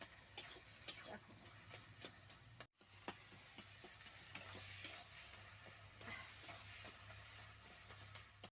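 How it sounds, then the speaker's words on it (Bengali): A large fish head frying in a pan, giving a steady broad sizzle with scattered sharp crackles and pops, close and fairly loud, with no talking. "এখন দিয়ে দিচ্ছি মাছের মাথাটা।"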